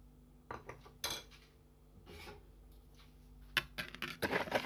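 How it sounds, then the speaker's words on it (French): A spoon clinks and scrapes against a bowl while dry yeast, melted butter and an egg are mixed for cinnamon roll dough, a series of quiet, irregular metallic taps and rattles close by. "Je mélange le tout."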